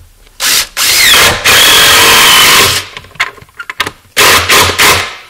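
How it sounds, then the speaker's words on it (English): Power drill driving screws into wooden bracing on a large box beam mantel, loud bursts of high whirring as the bit spins, with pauses and short triggers between runs, close to the microphone. "We're going to put a couple of screws through our bracing."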